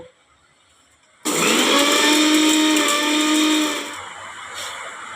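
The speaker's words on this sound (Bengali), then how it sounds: "শুকনো কলায় ভেজে রেখেছি, এটাকে আমি গুঁড়ো করে নেব।" A mixer grinder whirs at full speed for several seconds, grinding dry-roasted spices with a loud, steady, close whine. It starts abruptly after near-silence, then cuts off and leaves a faint residual hum.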